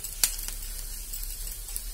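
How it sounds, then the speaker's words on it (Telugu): Tempering spices sizzle and fry in a pan, giving a soft, steady hiss with a couple of sharp pops and crackles. "చూడండి పోపు అయితే వేగుతుంది"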